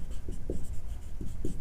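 Pen or chalk scratching across a board or paper during a sixth-grade maths lesson, in short repeated strokes close by, with no talking.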